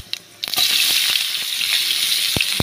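Fish frying in hot oil in a pan gives a loud, steady close-up sizzle, with a few sharp pops and crackles throughout.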